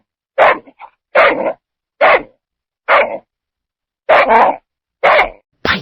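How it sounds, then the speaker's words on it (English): Pickles the dog barks in a run of seven short, sharp, close barks spaced roughly evenly, each one a distinct burst with silence between. "He barked, and he barked, and he made little rushes."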